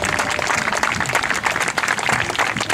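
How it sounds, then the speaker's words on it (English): A room full of people claps for Anastasia and a newcomer at a recovery candlelight vigil, giving a steady, dense burst of applause that stays loud throughout. "Round of applause for Anastasia and the newcomer once again."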